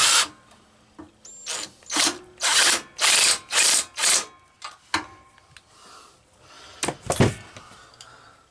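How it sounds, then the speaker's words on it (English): A hand ratchet turning a socket on a fastener inside a pipe during repair work on an LT2000, heard as several loud, close bursts of rapid clicking separated by short pauses, with a few quieter knocks toward the end. "The inside has to be done with a ratchet."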